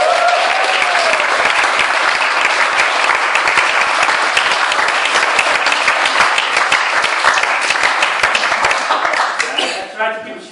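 A large audience at a celebration gives loud, dense, sustained applause, with many hands clapping and crowd noise mixed in, fading out near the end.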